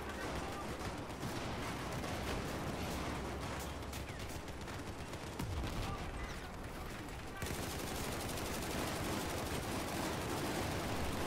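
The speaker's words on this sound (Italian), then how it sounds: "Spariamo tanto a casaccio." Dense, chaotic gunfire from the video game Battlefield 4 on PS4, overlapping bursts and volleys filling the whole stretch at steady loudness, with an Italian player's voice faintly under the shooting.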